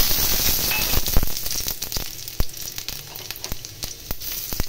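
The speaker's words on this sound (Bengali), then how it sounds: "এগুলি ভাজা হয়ে গেছে।" Garlic cloves with fennel, fenugreek and nigella seeds sizzle and crackle steadily in hot oil, close and fairly loud, with sharp spitting pops scattered throughout and no talking.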